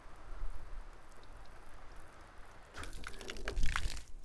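Simulated rain sprinkles water onto a painted fibre cement roof, a faint steady hiss of fine spray that turns into louder, close splashing and dripping patter in the final seconds.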